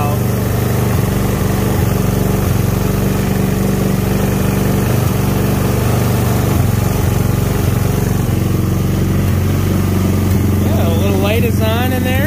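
Go-kart engine running with its idle screw backed all the way out, a loud close continuous droning rumble that holds steady, with a rising whine near the end.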